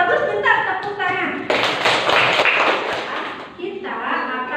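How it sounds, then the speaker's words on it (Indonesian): A class of children bursts into a couple of seconds of lively hand clapping, close and loud, with a teacher's voice speaking before and after. "tepuk tangan"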